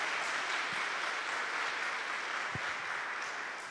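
Church congregation applauding together, a dense steady wash of clapping that holds at full strength for several seconds before easing slightly at the end.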